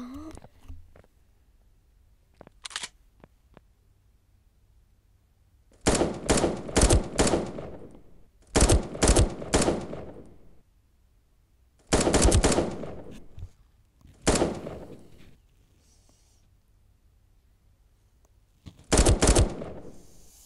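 Gunfire from aim training in the video game 1v1.LOL: loud bursts of rapid automatic shots repeat every few seconds, separated by quiet gaps, with a few single shots early on.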